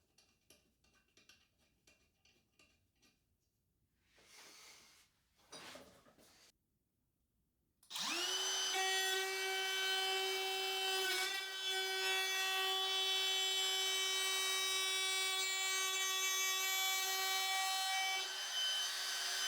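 An Enjoywood router jig cuts a groove into a 2x4: after some quiet handling noises the router spins up to a loud, sustained high whine that holds steady for about ten seconds with the bit biting into the wood.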